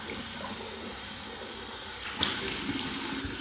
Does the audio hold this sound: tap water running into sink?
yes